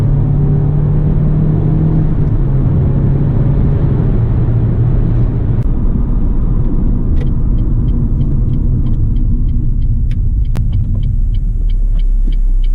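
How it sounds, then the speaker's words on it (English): A Renault Clio 197 engine running, a steady loud low rumble heard from inside the car, holding an even drone throughout with faint clicking ticks toward the end. "I'm a bit tired of the engine note"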